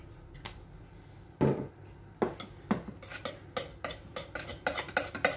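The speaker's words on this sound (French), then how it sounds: "J'ai mis un peu d'huile d'olive comme je vous ai dit, je mélange." Moroccan-style tabbouleh being stirred with olive oil in a bowl, giving a series of light clinks and scrapes of a utensil against the dish, sparse at first and then quickening into a steady rhythm, close by with no talking.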